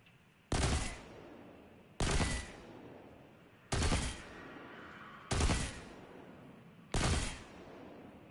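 Gunfire in the game Destiny 2 comes as five separate loud bursts spaced about a second and a half apart, each a sharp blast trailing into a short echoing decay over quiet background, with no talk.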